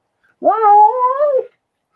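A cat lets out a single drawn-out, wavering meow close up, loud and clear for about a second against silence.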